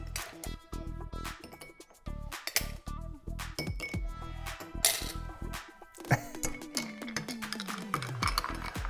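Ice cubes clink and rattle against a glass as whisky and cola is mixed, the sharp rings and knocks coming in bursts, loud and close with no talking.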